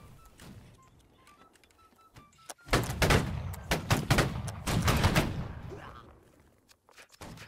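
A musket volley in Holdfast: Nations at War, part of a siege event, crackles as a dense, rippling burst of many overlapping shots lasting a few seconds. Voices talk over the gunfire.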